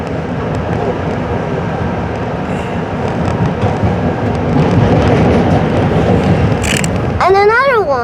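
A Metro-North diesel train passing close by on the railroad, a loud continuous rumble and clatter of wagons with wheel noise swelling midway, a voice speaking near the end.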